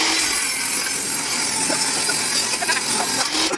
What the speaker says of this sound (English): We're going to cut our back support at a 30-degree bevel on the table saw.